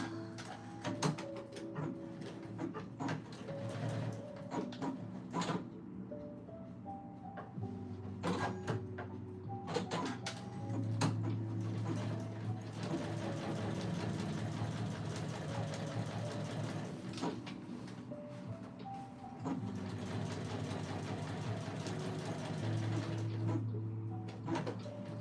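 A sewing machine stitches fabric in long runs of rapid mechanical whirring, stopping and restarting several times, with the motor tone rising and falling and occasional clicks between bursts, close and moderately loud.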